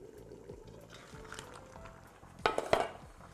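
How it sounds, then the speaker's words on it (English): A pot of sauce boils on the stove during cooking, giving a soft, steady bubbling hiss. Two sharp metallic clinks of a utensil ring out near the end. "It's now nicely boiling, you can hear the noise."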